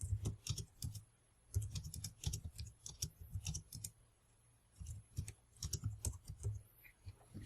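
Fingers type on a keyboard in quick bursts of crisp key clicks separated by short pauses, close and fairly quiet, the keys entering text into spreadsheet cells on an Onyx Boox Max Lumi setup.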